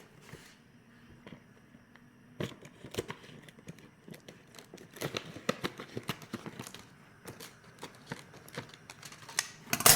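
Scissors snipping open a package of tapioca pearls in a home kitchen, a run of sharp irregular clicks and cuts close by, sparse at first and growing busier, with no talk.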